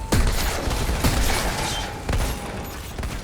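Gunfire in the video game Outriders, a rapid burst of loud overlapping shots with heavy booming impacts, dense and continuous for a few seconds.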